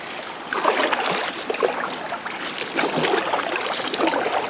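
A canoe paddle pushes off the shallow, ankle-deep lake bottom while the hull scrapes free, making a steady, close scraping and sloshing wash that rises and swells in uneven surges throughout.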